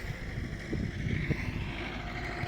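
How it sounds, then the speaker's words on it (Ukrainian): A tractor rolls up to a refuelling spot beside a raspberry field before spraying, its engine giving a steady low rumble with light wind noise, fairly close and continuous throughout. "Під'їжджає трактор на заправочку"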